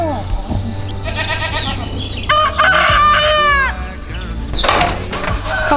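Chickens and a rooster at a backyard coop, with repeated loud crowing calls up close amid clucking and animal noise, while people talk in the background.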